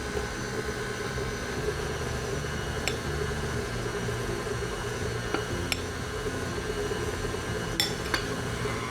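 Flour being mixed into limoncello cookie dough, heard as a steady background hum broken by a few light clinks of a spoon against the bowl, with no one talking.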